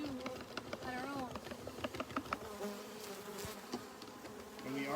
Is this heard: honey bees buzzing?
yes